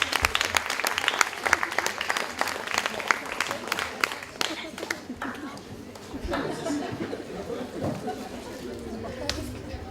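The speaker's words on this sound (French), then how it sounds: "vous pouvez les applaudir" Loud audience applause at an evening event fills the first half, then thins into scattered claps beneath chatter and voices from the crowd.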